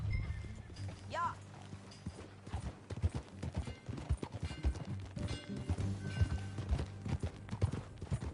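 Horse hooves clip-clop steadily in the Western video game Red Dead Redemption, a ridden horse moving at a walk with a brief whinny early on, while characters talk over the hoofbeats.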